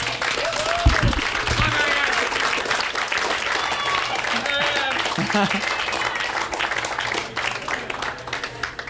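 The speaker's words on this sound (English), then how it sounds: "How about a huge round of applause for these guys?" A dinner audience at a tales-and-ales event applauds in a long, steady round of dense clapping that holds at full strength for about nine seconds, with voices calling out and talking over it.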